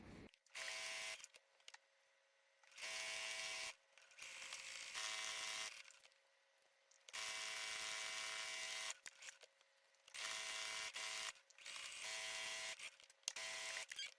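A sewing machine stitches around a fabric zipper pouch made from Turkish towels in several bursts of steady, buzzing mechanical whir, each a few seconds long and separated by near-silent pauses, close and clear.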